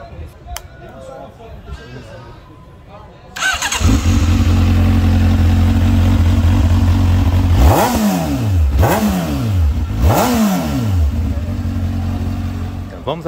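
A Honda motorcycle at a used vehicle fair in Caruaru starts up, idles loudly nearby, then revs hard three times in quick succession after quieter background voices.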